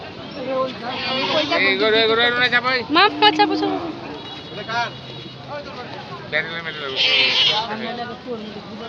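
Goats bleat repeatedly amid a busy crowd at a livestock market, with wavering calls rising above people chattering and general market bustle.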